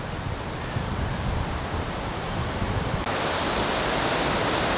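Water pours over a falls on the Presque Isle River in Michigan, a loud, continuous broadband roar that grows a little fuller and brighter partway through, with no voices.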